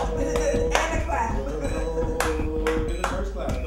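A handful of sharp, separate claps ring out against a keyboard tone and low musical backing in a radio studio, spaced irregularly with one brief burst, while a voice talks over them.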